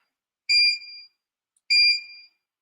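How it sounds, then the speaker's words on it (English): A Siser Romeo cutting machine's completion chime: two identical bright electronic beeps, each about half a second long, separated by a pause, with no other sound around them. "and that's the sound of the chime"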